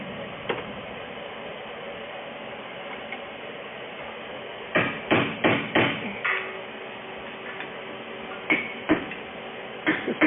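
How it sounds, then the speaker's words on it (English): A chisel is hammered against a stuck VW ABS sensor, giving a quick run of four sharp metallic strikes followed by a few more scattered hits, close and distinct over quiet workshop background. "When I'm trying to just chisel it off or break it off to where I can get a better hit on the center of it."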